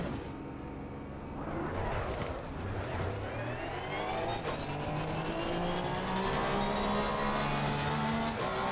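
Porsche 911 GT3 race car engine lapping the Nürburgring in a racing game, revving and climbing steadily through the gears with rising harmonic whine, loud and continuous, with a voice speaking faintly underneath.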